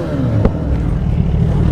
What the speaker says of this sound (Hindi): सुबह सुबह जोर का थ्रॉटल घुमा दिया बच्चे ने।